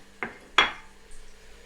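Chopped carrots tipped into a pot of cow foot stew with butter beans, fresh off the pressure cooker, giving two sharp metallic clanks of pot and utensil about a third of a second apart, close and fairly quiet.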